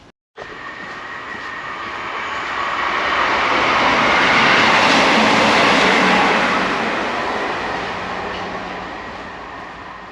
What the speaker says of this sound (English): you're going to hear the trains quite regularly